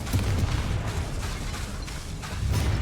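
Confringo blasting spell explosions in the video game Hogwarts Legacy, loud, dense booming bursts that keep going with barely a pause amid the noise of combat.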